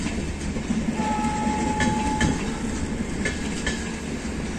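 An Ajmer Sealdah superfast express hauled by an electric locomotive arrives at Phulera station with a steady, loud rumble and rhythmic wheel clatter. A brief horn tone sounds early on.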